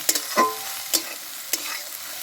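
Soybean chunks with salt and a pinch of chili powder being stir-fried in a pan, giving a few sharp scraping stirs over a steady low sizzle, close and fairly loud with no talking.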